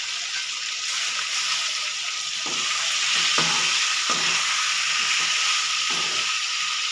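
Tomatoes sizzle steadily in a hot pan as salt is added, a close, continuous frying hiss broken by a few soft stirring scrapes and clinks, with no talk.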